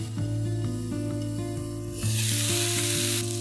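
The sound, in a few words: ground pork sizzling in a frying pan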